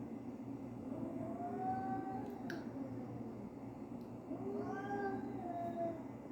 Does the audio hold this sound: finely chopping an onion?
no